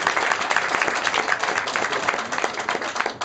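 A strong round of audience applause for a Mixtec music group, dense steady clapping from a large crowd filling the space continuously without any voices.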